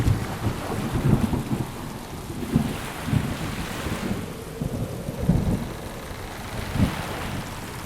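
Steady heavy rain with repeated low rumbles of thunder rolling through a thunderstorm, a dense continuous wash with no voices.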